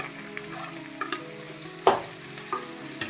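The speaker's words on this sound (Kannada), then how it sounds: "ಚಂದಿಗೆ ಸ್ವಲ್ಪ ಬೇಯಿಸ್ಕೊಳ್ಳೋಣ ಫ್ರೈ ಮಾಡ್ಕೊಳ್ಳೋಣ ಈಗ ನೋಡಿರಿ ಟಮಾಟಿನ ಹಾಕ್ಕೊತೀನಿ ನಾನು ಎಲ್ಲನೂ" Onion and tomato frying in a pan for a North Karnataka breakfast dish, a steady close sizzle with occasional light stirring scrapes and one sharper clink, no talking.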